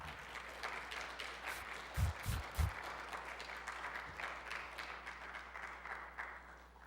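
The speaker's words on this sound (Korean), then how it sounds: "우리 선교사님 나오실 때 큰 박수로 환영합니다" A church congregation claps warmly to welcome a missionary, a faint, steady patter of applause heard from a distance with a few louder low thumps near the middle.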